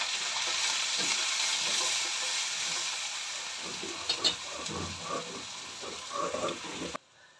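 White cumin seeds sizzle in hot oil as tempering for a fish curry, a bright steady crackling hiss close up with occasional spatter pops, fading near the end before a sudden cut.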